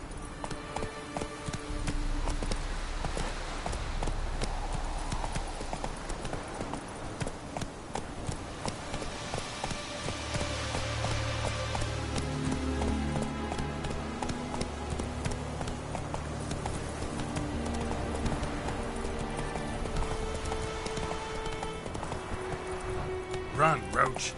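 Roach, a horse in The Witcher 3: Wild Hunt on PS4 Pro, gallops with a continuous rhythmic clip-clop of hooves. Game music and ambience play underneath throughout.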